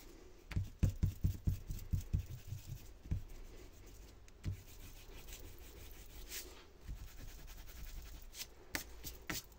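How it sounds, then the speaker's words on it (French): An eraser rubbing out pencil on paper during an Advent calendar craft: quick, close, rhythmic scrubbing strokes in the first few seconds, then scattered quieter rubs. "Donc là, je vais gommer"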